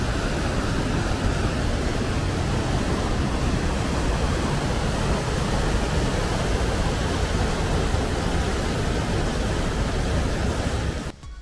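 Powerful roaring flow of the Ruskeala waterfalls in Karelia, a steady, dense broadband rush of falling water that stays loud and unbroken for the whole stretch, with no voices, before cutting off abruptly at the very end.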